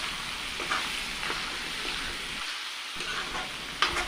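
Pieces of duck meat fry in a pan, a continuous close sizzle with faint scrapes of stirring and one sharper knock near the end.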